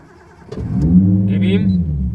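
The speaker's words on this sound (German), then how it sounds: "Und jetzt gibt es das übliche Startup Procedure." A Nissan Skyline R33 GTST street car with a GTX3076 turbo cranks and fires up, settling into a loud, steady idle close by after a brief starter whir.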